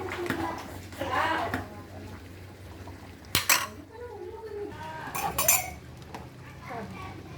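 A spoon clinks and scrapes against a cooking pot while champorado, a chocolate rice porridge, is stirred, with scattered metallic taps close by under ongoing talk from people nearby.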